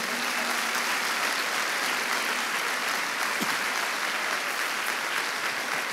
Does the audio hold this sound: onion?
no